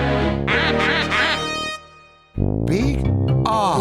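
A cartoonish duck quacks loudly several times in a rapid, bouncy sequence, with a brief drop in level midway before the quacks resume, set against a whimsical alphabet-rhyme backdrop.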